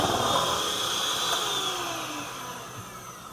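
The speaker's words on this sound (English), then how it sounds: "I'm going to use the mixer again and just mix it up to make sure that everything's nicely mixed" Electric hand mixer whirring steadily through chocolate zucchini bread batter, a continuous close motor drone with a slight pitch drift as the beaters work, gradually easing in loudness toward the end.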